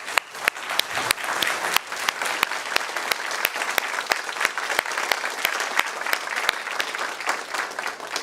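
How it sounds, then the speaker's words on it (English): A conference room full of people applauding steadily, with sharp individual claps standing out over a dense wash of clapping throughout. "Round of applause."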